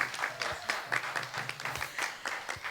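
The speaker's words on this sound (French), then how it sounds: "Encore une fois, on applaudit." Audience applause at a French literary and rap reading event, a steady patter of many hands clapping at moderate distance with rhythmic accents throughout.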